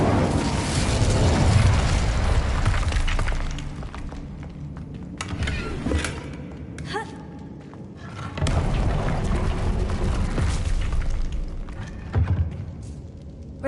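Incendio fire spell cast in Hogwarts Legacy, loud roaring whooshes and booming bursts of flame in several waves, with crackling tails between them.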